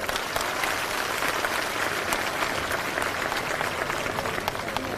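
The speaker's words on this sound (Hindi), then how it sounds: "एक बार जोरदार तालियां हमारे सभी बड़े बुजुर्गों के लिए।" Loud, dense applause from a large crowd at a political rally, sustained clapping throughout with no pauses.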